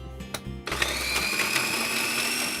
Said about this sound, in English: I'm just gonna chop that.